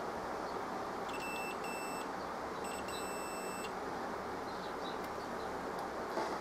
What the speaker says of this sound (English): if I just probe one of the pins on here, we should get a beep at some point.